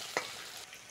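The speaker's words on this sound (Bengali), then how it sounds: "মশলার সঙ্গে চিংড়িটা ভালো করে ভেজে নেব।" Prawns coated in salt and turmeric frying with spices in a pan for a Bengali jackfruit-prawn dish, a steady close sizzle with a brief sharper spurt near the start.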